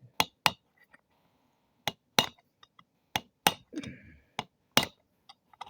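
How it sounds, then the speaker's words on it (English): A brass punch is struck against a car strut part on a 1993 Infiniti J30, giving sharp, ringing metallic hits in irregular pairs and singles over about six seconds, close up, with quiet gaps between blows. "I'm using a brass punch, but it might be better to just hit it with something that's going to be harder."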